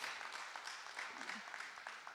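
Applause from a church congregation for the pastor's wife, a steady wash of clapping lasting a couple of seconds at moderate, somewhat distant level.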